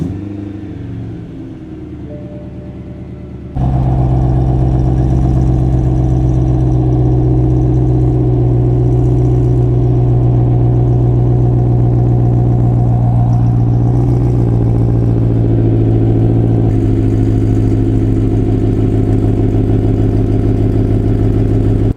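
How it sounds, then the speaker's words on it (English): A BMW E92 M3 fitted with an Active Autowerke signature rear exhaust idles at a low burble, then settles into a loud, steady deep rumble with slight rises in pitch as it revs, close by and alone. "this exhaust is actually the Active Autowerke signature rear exhaust for the E9X platform"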